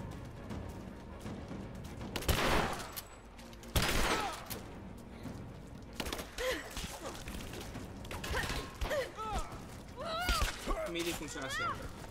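Sharp bursts of Rise of the Tomb Raider video game gunfire crack out a few times among mechanical clicks and rattles, with a voice talking in between.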